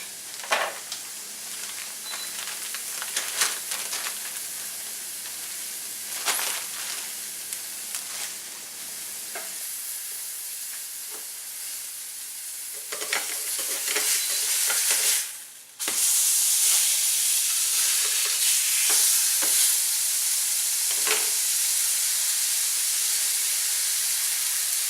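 Low-fat burger meat sears in a hot pan with a constant hissing sizzle and occasional scrapes. The sizzle swells sharply and stays loud near the end.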